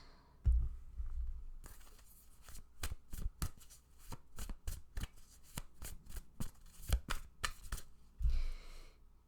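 Tarot cards being shuffled by hand in a run of crisp, rapid riffling snaps with a few soft thuds, close and clear, no voice over them.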